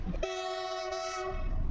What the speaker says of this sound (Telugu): మనకు గూడ్స్ బండి అయితే ఎదురు వచ్చేస్తుంది అనమాట.